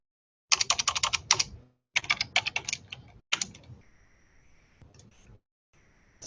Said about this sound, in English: I can type over its name, and I'm going to make it Curve 1.